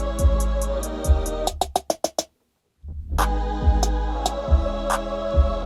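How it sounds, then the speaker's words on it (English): Bass in a music mix with a tape stop effect, its pitch sliding down and dying out while the drums and instruments drop away, followed by a brief silence before the full track with heavy beat comes back in. "we've basically just tape stopped the bass"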